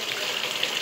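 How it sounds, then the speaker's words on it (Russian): Water rushing into a polypropylene pipe as it fills, a faint, steady hiss with a soft gurgle, heard alone without talk. "заполняем водой, выпускаем весь воздух"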